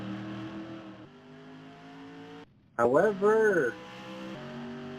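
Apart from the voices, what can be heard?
race car lapping at Evergreen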